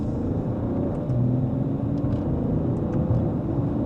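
A 2026 BMW 550e accelerates mildly in sport mode in second gear, a steady low engine and road rumble heard from inside the car, even and unbroken, with a few faint higher ticks and no talk.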